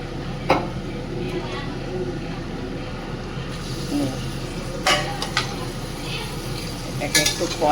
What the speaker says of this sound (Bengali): এটাকে একটু কষাবো, কষিয়ে তারপরে জল দিয়ে দেবো।